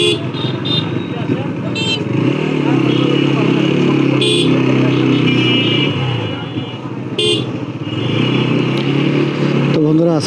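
A motorcycle rides along a busy road with traffic including autorickshaws, its engine droning steadily and close, with brief horn toots and passing vehicles, while a voice talks over the ride.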